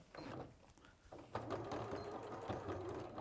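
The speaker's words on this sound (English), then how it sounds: "I'm going to stitch along the top edge of this just in the same way" A sewing machine stitching along the top edge of a fabric bucket bag, heard as a fast, even mechanical whirr that starts after a brief pause and runs steadily up close, with no talking over it.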